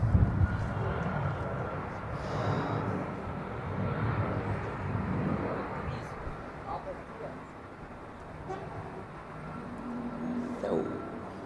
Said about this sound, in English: Enjoy this 777, guys and girls and people in general,